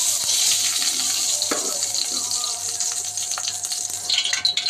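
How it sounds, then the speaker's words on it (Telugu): Ghee poured into a hot pan while making bread halwa, giving a steady watery hiss and light sizzle with a few small clatters, close and fairly loud, no talking. "దీనిలో కొద్దిగా నెయ్యి వేసుకోవాలి."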